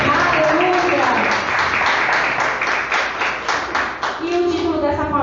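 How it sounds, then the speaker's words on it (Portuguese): A church congregation claps together in a steady, dense patter, with voices calling out over the clapping at the start and again near the end. "Aplauda o Senhor."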